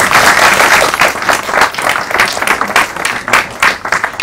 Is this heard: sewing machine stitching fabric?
no